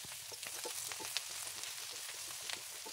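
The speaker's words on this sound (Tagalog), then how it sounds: "gisahin na natin ang sibuyas at bawang" Onion and garlic sautéing in hot oil, a steady dense sizzle with crackling spits throughout, close and alone with no voices.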